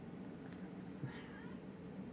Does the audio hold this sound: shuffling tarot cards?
no